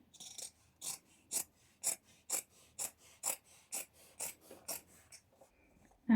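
Scissors cut through fabric for a pair of shorts in a quiet room, a dozen crisp close snips landing in a fairly even rhythm with short pauses between them.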